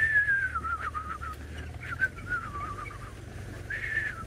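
A person whistling short chirping phrases in an attempt to imitate a bird's call, thin and fairly close, with brief pauses between bursts.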